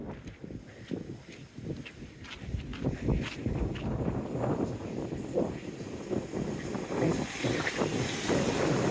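Wind gusting against the microphone on a seaside seawall walk, rumbling buffets that build and grow louder toward the end, with faint footsteps beneath.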